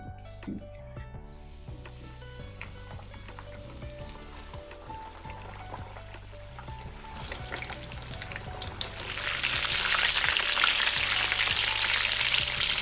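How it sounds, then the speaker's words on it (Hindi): Samosas deep frying in hot oil give a steady hissing sizzle that swells much louder and denser partway through, with soft background music running underneath. "ऑयल गर्म हो गया। अब समोसे फ्राई कर लेंगे।"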